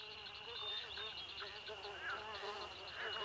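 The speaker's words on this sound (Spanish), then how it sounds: "¡Uy! ¡Mosquitos!" Cartoon mosquitoes buzz in a high, wavering whine with several overlapping tones, fairly faint and continuous over a quiet background, like an animated sound effect.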